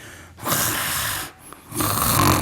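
A voice imitates forced, noisy breathing: two long, loud rasping breaths, one out and one in, separated by a short pause. Each breath is harsh and airy and sounds close to the listener, with no other sound present.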